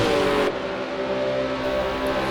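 Race cars sweep down the main straight across the finish line at a circuit event, a loud continuous engine roar with a sustained high whine that drops in pitch early on, no voices.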